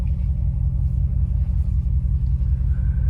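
A Ram 1500 pickup on 35-inch tires, with no lift or leveling kit, rolls along with the steering wheel turned to full lock. A steady, close, low rumble of engine and tires carries on throughout, with no rubbing and no talking.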